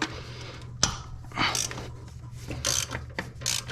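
Several quick bursts of close ratchet clicking as a hand ratchet loosens bolts on a Jeep 4.0 engine's intake, with brief pauses and light metallic scraping between strokes.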